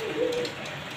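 A racing pigeon gives a soft, low coo, one brief throaty call near and fairly clear against a faint background hiss.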